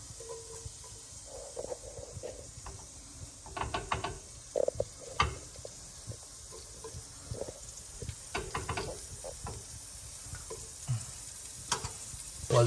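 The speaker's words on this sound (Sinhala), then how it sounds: "දැන් මම කරන්නේ ඉඟුරු සුදු ලුණු ටික මුලින්ම මේකට දා ගන්නවා" Ginger and garlic frying in hot coconut oil in a pan, a soft sizzle broken by intermittent clinks and scrapes of a utensil stirring, fairly quiet and close.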